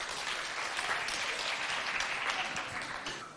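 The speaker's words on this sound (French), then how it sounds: "On l'applaudit." Audience applause at a school event at an evangelical school in Mao, a steady dense clapping from a crowd lasting a few seconds, fairly close and even in loudness throughout.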